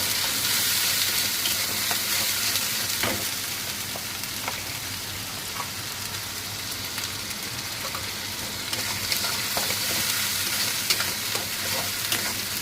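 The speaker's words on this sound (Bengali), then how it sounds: "তারপর এইটাকে একটুখানি ভেজে নেব।" Spice paste fries steadily in a pan for a fish curry with potato and pointed gourd, giving a continuous loud sizzle with occasional stirring scrapes and no voices.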